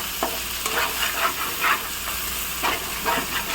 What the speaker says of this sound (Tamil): தக்காளி நல்லா வதக்கணும்.